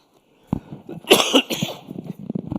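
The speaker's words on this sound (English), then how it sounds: "I just totally apologize for coughing my way through this thing." A person coughs several times in a quick, harsh burst, close to the microphone, after a moment of silence.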